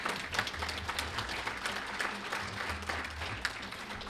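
Faint, distant round of applause from an evening event audience, a continuous patter of clapping hands with no talk over it.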